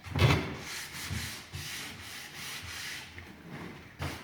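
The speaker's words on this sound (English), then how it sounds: "once you've sanded it down, give it a wipe, blow it down just to get the dust particles off" Sandpaper rubs back and forth over a varnished wooden surface to remove flaking varnish and paint, in a few short, close strokes that rasp at moderate volume with no talking.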